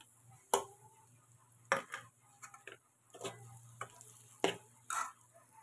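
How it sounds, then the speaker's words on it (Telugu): A spoon scrapes and stirs through egg curry in a pan as chili powder is mixed in, giving about half a dozen irregular, close scraping strokes over a quiet low hum, with no talking. "కారం వేసి ఇట్లా మంచిగా కలుపుకున్నాక"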